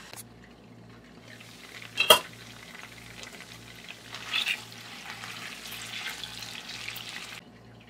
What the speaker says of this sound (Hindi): इसके ऊपर लिड लगाएंगे और आलू को मीडियम फ्लेम पर फ्राई करेंगे।